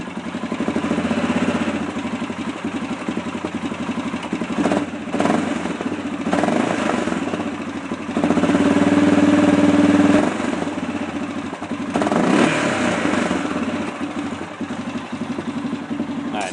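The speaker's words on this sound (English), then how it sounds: "that's pretty much what the stock muffler sounds like" An Arctic Cat 650 H1 engine with its stock muffler idles loudly up close, a rough, steady mechanical drone that briefly swells a couple of times as the throttle is blipped.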